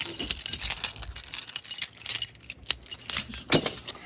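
Keys drop and jangle with bright metallic clinks in a few quick bursts, close by and fairly quiet, with no talking.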